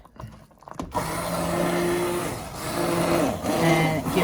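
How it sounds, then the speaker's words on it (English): An immersion blender whirs through a pot of cream of broccoli cheddar soup, starting after a brief quiet moment and running in steady loud bursts with short dips as it is pulsed. "I'm going to take my immersion blender. I'm going to turn this down, and I'm just going to pulse around"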